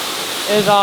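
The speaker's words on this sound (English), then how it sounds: "So look at this beautiful water, you know." Natural flowing water, like a stream or small waterfall, rushes steadily as a broad close hiss while someone talks over it.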